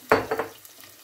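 Tomato and pepper paste stirred in a hot pan, giving a brief scraping sizzle with a couple of quick stirring strokes, close and moderately loud, then fading to a faint hiss.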